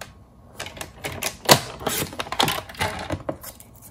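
A paper trimmer slides and cuts through a paper craft tag, giving a close run of clicking, ratcheting scrapes and taps of fairly steady intensity.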